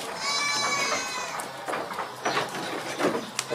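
Etawa crossbreed dairy goats, including a buck, bleat repeatedly at close range, several drawn-out wavering calls overlapping in a pen, with faint talk beneath.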